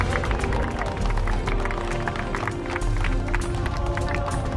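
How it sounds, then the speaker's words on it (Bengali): Dense applause and clapping from a crowd at a football tournament prize ceremony, a steady loud wash of hands with scattered sharper claps and background babble throughout. "জোরে হাততালি হয়ে যাক।"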